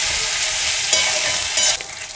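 Spice paste with salt being stir-fried for Bengali mustard rohu fish: a steady close sizzle in the pan with a few louder scraping stirs, no voices.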